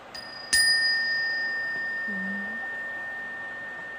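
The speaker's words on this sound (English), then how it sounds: "Forgot to ding my bell." A small bell is struck once, a bright ding with a long, clean ringing tone that slowly decays in a quiet room, followed by a faint low hum.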